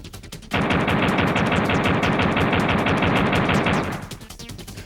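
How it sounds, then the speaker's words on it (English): Duke firing a pistol in an N64 game, a rapid continuous burst of loud gunfire shots lasting several seconds after a brief quiet start, then cutting off. "Then return to the game and fire some bullets."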